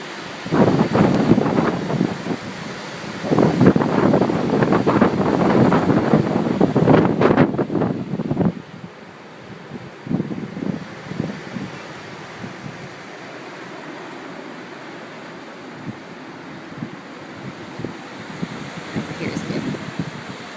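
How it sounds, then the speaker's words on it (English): Blizzard wind gusts on an outdoor back deck buffet the microphone in heavy, rumbling bursts for the first several seconds, then ease into a quieter hiss broken by a few weaker gusts. "We'll just wait for a little wind gust."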